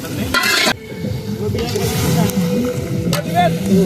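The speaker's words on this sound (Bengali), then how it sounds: "চিকেন চলে আসলো আমাদের কড়াইয়ে" Chicken sizzles loudly in a wok at an outdoor picnic alongside clattering metal utensils, while voices talk over the cooking noise.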